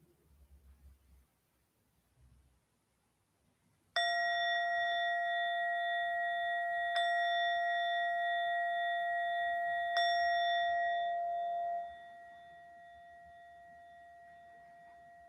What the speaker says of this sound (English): we will conclude our practice with 3 chimes of the bell